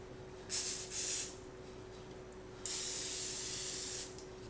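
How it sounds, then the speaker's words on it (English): Ketchup squirting from a squeeze bottle into a meatloaf mixture gives two bursts of hissing spray, a short double puff and then a longer continuous squirt, close and clear over a faint steady hum; no one speaks. "Just squirt some ketchup for flavor in your mixture"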